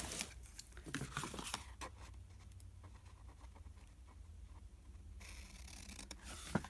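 Scissors snip through watercolor card in a series of short, crisp cuts close up, interspersed with light rustling and paper handling.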